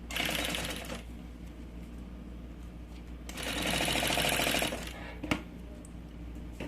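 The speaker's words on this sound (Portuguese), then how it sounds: "E aí eu passo uma costurinha bem na beiradinha." Sewing machine stitching a seam along the edge of a fabric pencil case, in two loud, close bursts of rapid mechanical stitching separated by a quieter pause, with a brief clack near the end.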